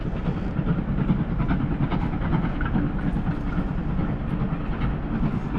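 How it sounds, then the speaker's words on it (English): A steam train rolls past nearby, making a steady heavy rumble with faint rhythmic clatter from the wheels on the rails throughout, with no voices. "And there goes the steam train"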